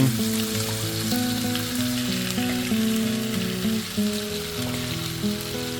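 Juicy tomatoes go into a hot pan of stew sauce with pumpkin, a steady sizzle and crackle running throughout while music plays prominently underneath.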